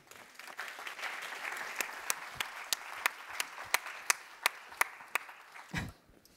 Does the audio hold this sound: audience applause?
yes